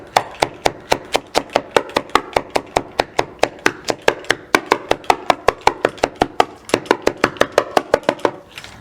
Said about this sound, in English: Let's try chopping the lettuce first.